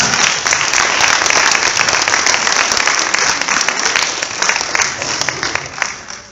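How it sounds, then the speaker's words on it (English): An after-prom hypnosis show audience applauds volunteers returning to their seats, loud, dense clapping that holds steady and then tapers off toward the end. "Give them a big round for coming up here."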